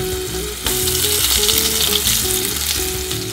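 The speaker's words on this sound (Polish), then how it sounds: "Smażymy ziemniaki." Steady, loud sizzling of potatoes frying in hot oil in a pan, a dense crackling hiss that swells after a brief quieter start and continues without talk.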